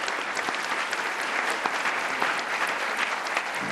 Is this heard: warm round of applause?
yes